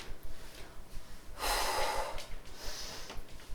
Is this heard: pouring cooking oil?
no